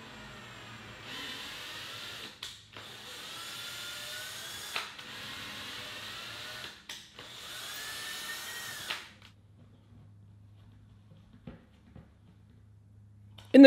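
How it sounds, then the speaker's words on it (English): Hand or powered tap cutting screw threads into a plastic amp rack cooling panel: a steady whirring drill-like drone in several bursts of about two seconds each, separated by short pauses, fairly close and alone, then quiet. "So then I just gotta tap it with this tap right here."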